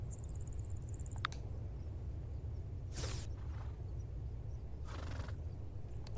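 Horses whinnying in the farming video game Farm Together 2, two separate neighs a couple of seconds apart over a steady bed of cricket chirps and low ambient hum.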